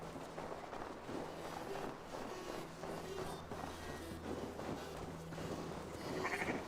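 Sheep bleat faintly in the video game Assassin's Creed Valhalla amid a busy, layered background of ambient sound, with a few short calls scattered throughout.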